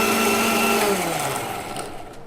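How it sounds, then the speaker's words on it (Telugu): A mixer grinder whirs loudly as it grinds coriander, green chillies, mint and tomato, a steady motor drone that gradually slows and fades toward the end. "ఇవి వేసినాం కదా, మిక్సీకి పట్టుకొని వేయాలి."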